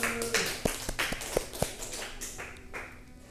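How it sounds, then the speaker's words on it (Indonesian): Sparse claps from a small classroom group of students during an Islamic education microteaching session, a handful of sharp separate claps over about two seconds with faint background voices. "Tepuk tangan dong buat Mbak Akila."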